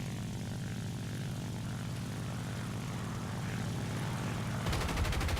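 Propeller aircraft engine droning steadily in War Thunder during a night attack, a constant pulsing hum that grows louder near the end as rapid gunfire bursts in.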